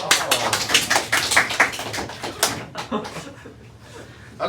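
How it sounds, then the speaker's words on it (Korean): Brief burst of applause from students in a classroom. Quick, dense clapping fades out after a few seconds. "박수!"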